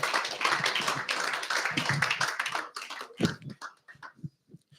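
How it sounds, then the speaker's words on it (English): Audience applause at a Pasifika Fusion 2024 speech event, a full round of clapping that thins out into a few scattered, separate claps near the end. "Can we give another round of applause"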